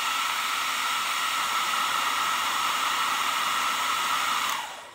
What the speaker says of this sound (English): And then you blow dry it.